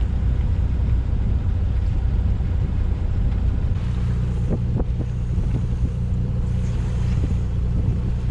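Strong wind roars across the microphone on a sailing boat motoring under engine, a heavy continuous low rumble with occasional gusty swells and faint knocks, no voices.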